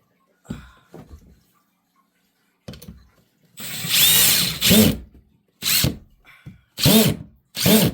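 A power drill drives screws through pre-drilled holes into a wall to mount a cat shelf. A few faint clicks come first, then a long close whirring drill run and three shorter loud bursts. No one speaks over it.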